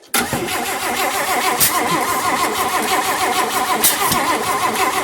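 A 1958 AMC Rambler Super engine cranking loudly on the starter in an attempted first start, a rapid rhythmic churning that carries on for several seconds without catching.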